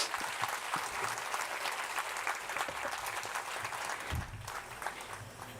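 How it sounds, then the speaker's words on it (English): An audience at an on-stage gratitude event claps in steady, moderately distant applause that keeps going throughout, with no voices over it. "A big round of applause for her."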